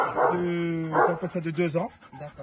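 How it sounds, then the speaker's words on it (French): A Belgian Malinois shepherd dog barks and yips in short, close bursts over about two seconds while people talk nearby. "berger belge malinois,"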